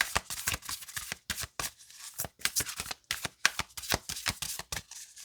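Oracle cards from a Sahara Rose deck shuffled by hand for a reading, a long run of crisp, rapid riffling bursts with brief pauses between, close and fairly quiet with no talking.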